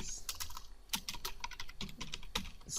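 Rapid typing on a computer keyboard during form coding, a steady run of close, crisp key clicks with irregular rhythm and no speech over it.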